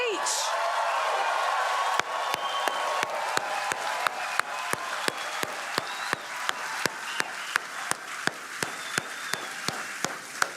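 A crowd applauds Charlie Kirk with a steady wash of clapping and some whoops, while a single sharp, regular clap repeats about every third of a second throughout.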